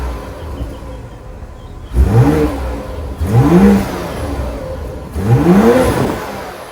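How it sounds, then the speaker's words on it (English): The 3-liter straight-six B58 twin-scroll turbo engine in a 2025 BMW X5 xDrive40i is revved hard three times from idle, each blip sweeping up sharply and falling back, loud and close. "let's fire up this 3-liter straight 6 twin scroll turbo B58 6-cylinder"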